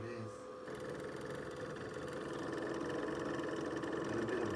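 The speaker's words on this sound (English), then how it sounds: "A little bit of rattling noises." A PS2 console runs with a steady mechanical whir and a faint, continuous rattle, a constant drone that builds slightly louder over a few seconds, close up with no talking.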